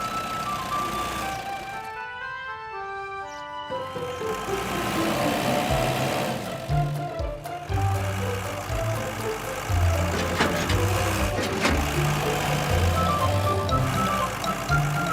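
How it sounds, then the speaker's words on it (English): Toy-style crane truck and tow truck drive out of a garage with rumbling engine noise, preceded by a brief melodic jingle, then steady motor drone and beeps continuing up close. "The crane truck and tow truck are coming out of the garage."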